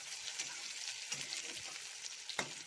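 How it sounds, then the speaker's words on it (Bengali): Chopped onion goes into hot oil in a pan for nawabi chicken, giving a soft, continuous sizzle with a few brief crackles and stirring scrapes and no talking. "এবার আমি এতে পেঁয়াজ কুচি দিয়ে দেবো।"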